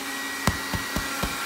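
A blow dryer blows through a funnel, making a continuous airy roar with a few soft, evenly spaced thumps running through it.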